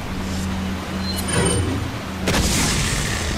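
A flash grenade goes off in the video game Resident Evil 4, a single loud boom and bright burst that cuts through a steady background rumble of game sound.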